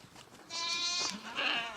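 A goat on a rocky North Carolina farm gives a single drawn-out bleat, fairly faint, over quiet outdoor background.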